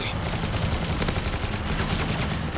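Dense, continuous rapid gunfire crackles loudly throughout, with bursts overlapping into a steady barrage, in the video game Call of Duty: Modern Warfare III co-op.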